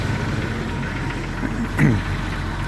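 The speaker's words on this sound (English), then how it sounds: "Engine running." A Jeep TJ Wrangler engine runs at a steady low idle, a constant rumbling hum, with a brief voice-like sound near the end.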